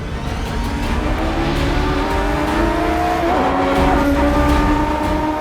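Formula One race cars accelerate hard off the start line at Silverstone, a loud, dense roar of several engines climbing in pitch together, with no talk over it.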